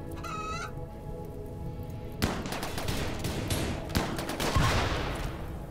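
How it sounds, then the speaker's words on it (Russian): A boomchicken clucks briefly in the RimWorld video game with the Zombieland mod, its short cluck followed by rattling bursts of gunfire and noisy combat. "маленькая, пускай не опасная бум-курица, добавляет пару-тройку минут смеха нашим бойцам"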